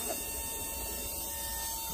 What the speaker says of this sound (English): Turn this machine on and watch all the air come through the system.